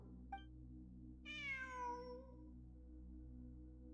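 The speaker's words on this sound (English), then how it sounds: "there's the meow sound" A cat in the video game Genshin Impact gives one clear, drawn-out meow over a steady low background hum, preceded by a brief faint chirp.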